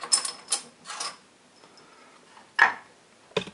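Wrench work on a CG125 (156FMI) engine cylinder head bolt: a few scattered metallic clicks and ratcheting ticks, with a sharper crack-like release near the end, close by in a quiet workshop.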